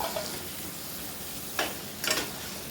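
Ground cumin, coriander, turmeric and garam masala frying in a pan for chicken curry, an even close sizzle broken by two brief stirring scrapes.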